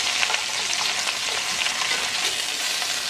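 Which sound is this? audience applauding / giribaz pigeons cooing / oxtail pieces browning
oxtail pieces browning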